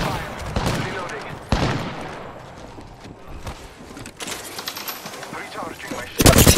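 Automatic gunfire from the video game Apex Legends crackles in bursts across the clip, with sharp loud reports near the start, middle and end, while a player talks over the shooting.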